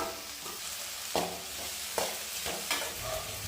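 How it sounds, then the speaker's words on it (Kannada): Fried okra tossed into browned onions in a pan, with a steady sizzle and several sharp stirring scrapes at uneven intervals and no talking. "ಈರುಳ್ಳಿ ಎಲ್ಲ ಕಲರ್ ಬಂದಮೇಲೆ ನಾವು ಆಗಲೇ ಫ್ರೈ ಮಾಡಿ ಎತ್ತಿಟ್ಕೊಂಡಿರೋಂತಹ ಬೆಂಡೆಕಾಯಿನ ಹಾಕ್ಕೊಳ್ಳೋಣ."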